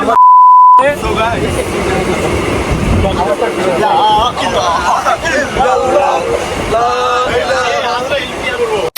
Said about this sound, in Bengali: সো গাইস ফাইনালি আমরা আলহামদুলিল্লাহ ট্রেন উঠে পড়ছি।